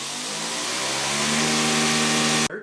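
A Greenworks 80V battery pressure washer sprays through its turbo nozzle, a loud, steady hissing rush with a droning motor-pump hum that holds level throughout, then cuts off abruptly just before the end.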